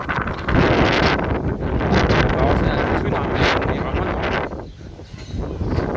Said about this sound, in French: alors que on s'approche de la Seine, il y a du vent